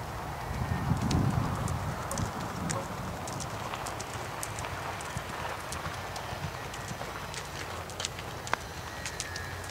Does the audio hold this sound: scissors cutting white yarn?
no